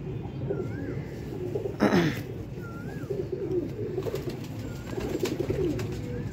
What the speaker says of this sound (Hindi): 31 नंबर बहुत ही आला कबूतर दोस्तों